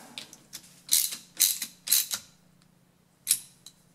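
A nut is tightened down onto a golf cart starter generator terminal over a flat washer and lock washer, giving a close series of quick ratchet clicks in short bursts, then a pause and one last click.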